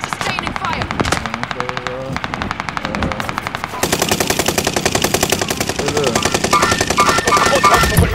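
Rapid automatic gunfire in Call of Duty Warzone, dense continuous bursts that grow louder and busier partway through, with voices talking over the shooting.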